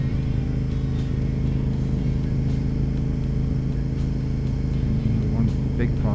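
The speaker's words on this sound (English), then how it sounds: "One big problem with an RC51 is that at 75 kilometers an hour and 150 kilometers an hour, the bike basically sounds the same." A Honda RC51 motorcycle ridden on open country roads, its engine a loud, steady low drone mixed with wind rush, holding an even tone with no clear revving.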